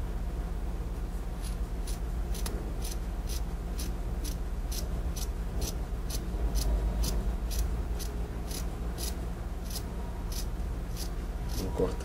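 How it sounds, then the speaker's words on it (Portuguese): Scissors cutting through T-shirt fabric to make a bandana, a close, steady run of evenly spaced crisp snips continuing throughout over a low background hum. "Com a tesoura, eu vou cortando."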